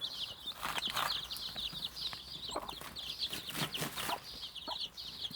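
A hen clucks to call her chicks to millet feed, giving soft, repeated low clucks at close range over a steady wash of high peeping from the chicks, all fairly quiet.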